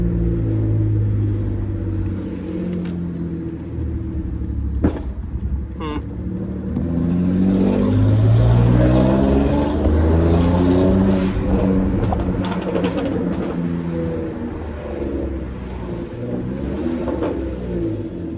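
A BMW N54 engine fitted with velocity stacks revs at partial throttle, rising and falling in repeated loud, close swells over a low rumble, with a voice briefly talking.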